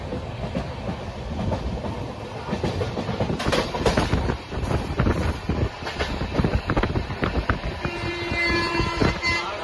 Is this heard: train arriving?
yes